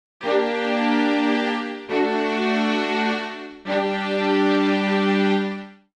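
A string ensemble sample library preset plays three long, full chords in succession, each swelling in and held for nearly two seconds, rich and close with no talking.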